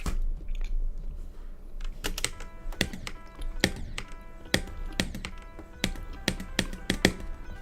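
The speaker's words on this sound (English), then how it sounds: "I hope my mic isn't picking up my chewing" Crunchy pretzel bites chewed close to a microphone, sharp irregular crunches and bites popping out over a quiet room hum, mixed with light keyboard-like taps.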